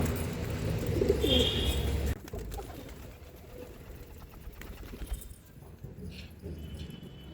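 Soft pigeon coos close by as pigeons are hand-fed, low murmuring calls with some rustling and faint background noise.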